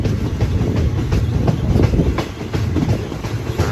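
Passenger train 445 in southern Thailand runs on rails between Lang Suan and Surat Thani, heard from inside as a loud continuous rumble with regular clickety-clack wheel beats on the joints.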